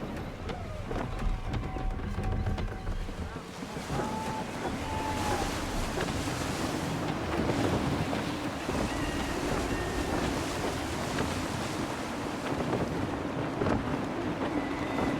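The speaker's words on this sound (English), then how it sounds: "Gusty winds can be difficult to manage." Gusty wind and open sea around a sailing ship in Assassin's Creed III, a steady roar of wind and water with faint creaks and brief tones, continuous throughout without speech.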